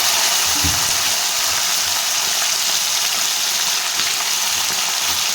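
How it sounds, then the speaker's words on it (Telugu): Broad beans (chikkudukaya) frying in a pan, a loud continuous sizzle with one brief knock near the start. "చిక్కుడుకాయ ఫ్రై చేస్తున్నానండి"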